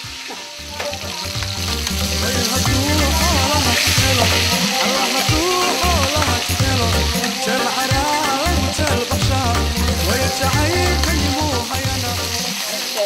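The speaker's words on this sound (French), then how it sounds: "tu chauffes un petit peu d'huile et tu fais frire la viande dedans" Meat fries loudly in hot oil with onions, garlic and cumin, a dense continuous sizzle and crackle with occasional stirring scrapes, close and steady throughout.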